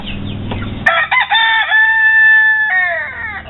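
A rooster crows nearby in a loud, drawn-out call after a few brief chicken clucks, set among a small backyard flock of chickens.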